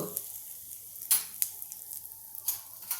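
Asafoetida drops into a hot oil tempering of cumin and red chili, which crackles and sizzles softly and steadily, with a few sharper pops close by.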